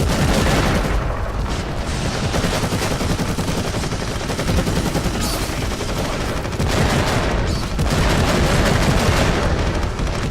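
Continuous rapid gunfire from shooting in the Warhammer 40,000 Eternal Crusade video game, loud and dense bursts of automatic fire with heavy booms throughout, no talking.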